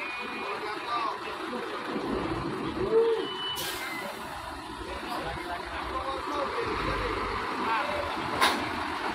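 A heavy loaded truck with Sumatra plates rolls slowly onto a ferry at a port, its low engine rumble steady beneath reversing beeps, hissing air brakes and background chatter.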